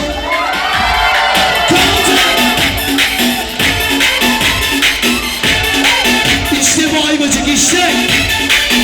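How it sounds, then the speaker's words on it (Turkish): A crowd at a music event in Ayvacık screams and cheers loudly and continuously, with high shrieks over music throughout. "Bizlerle eğlenenler çığlık atsın"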